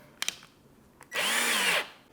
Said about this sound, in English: I can go ahead and just drill them in just bit by bit